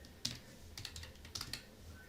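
Computer keyboard typing in a drafting software session, a few separate keystrokes and short clusters of taps, close and fairly quiet, with no talking.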